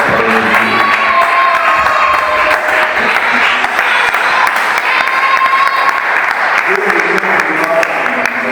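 A large church congregation applauds and cheers continuously at a French-language Christian service, dense clapping with raised voices and whoops sustained throughout at steady loudness.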